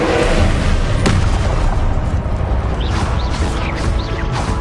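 A fire spell cast in the video game Hogwarts Legacy roars loud and dense throughout, with booming bursts near the start and rising whooshing sweeps layered over the continuous rumble.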